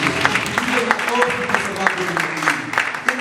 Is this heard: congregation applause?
yes